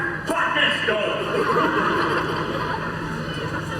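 Horses neigh and whinny at the Knie circus, the calls mixed into a busy, loud scene with people talking over them throughout.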